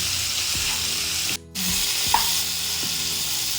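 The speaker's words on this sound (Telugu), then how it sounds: "ఇలా ఫ్రై చేసుకుంటూ ఉండాలి, చిన్నగా దగ్గర ఉండి" Broad beans frying in a pan give a steady soft sizzle throughout, with a brief dropout midway and a few faint scraping clicks from stirring, and no voices.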